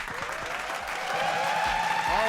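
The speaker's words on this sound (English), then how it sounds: "can we get a clap it up for that?" Live show audience applause and clapping on a talk-show stage, a steady loud burst of hands building slightly toward the end, with a few whoops and voices mixed in.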